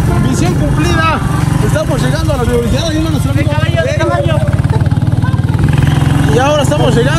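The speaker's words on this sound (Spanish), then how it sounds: "Estamos en la moto, estamos en la moto." A motorcycle ridden near a university, its engine droning loud and steady throughout while riders shout and talk over it.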